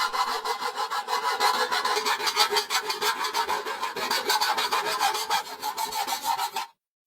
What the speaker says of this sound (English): he uses traditional grinding